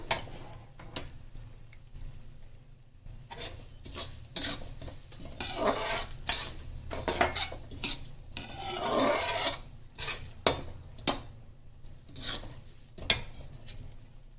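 Poppy seeds dry-roasting in a pan while being stirred for dry fruit ladoos, repeated scraping and rasping strokes of a spatula against the pan with a faint sizzle, fairly quiet, no talking.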